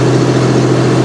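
A bulldozer's engine, on a 12,000-hour machine, runs loud and close with a steady low droning roar and no talking over it.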